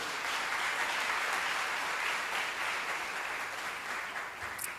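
A church congregation applauds during a sermon, a continuous wash of many hands clapping at a steady level that fades slightly near the end, with no talking over it.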